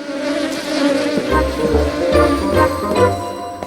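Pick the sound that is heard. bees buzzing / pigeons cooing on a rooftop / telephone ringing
bees buzzing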